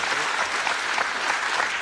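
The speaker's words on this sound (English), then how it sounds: "The only reason we're giving them a round of applause" Studio audience applause on a UK television game show, a dense, steady wash of clapping that holds evenly loud for its whole short length with no speech over it.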